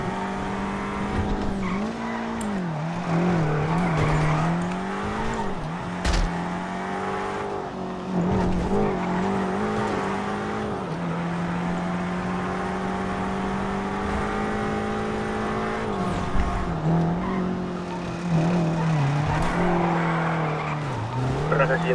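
A motorbike chases the player in GTA 5, its engine droning and rising and falling continuously alongside tire squeals and car noise, loud and sustained.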